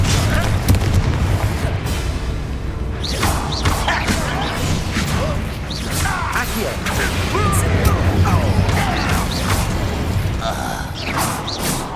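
Spell impacts in Hogwarts Legacy: fire, ice, pull and explosive blasts boom and crash in quick succession over a low rumbling game soundtrack, with a voice casting spells throughout.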